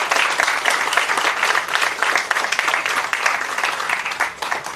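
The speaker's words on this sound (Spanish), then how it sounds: "Um forte aplauso para você também" Sustained applause fills the room at a carnival handover ceremony, dense and steady throughout with no clear pauses, loud and close.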